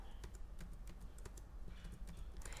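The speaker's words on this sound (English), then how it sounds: "all I'm doing is typing the number and pressing enter afterwards" Repeated key presses typing numbers on a TI-Nspire graphing calculator keypad, close and clicky in an irregular rhythm, with a steady background noise underneath.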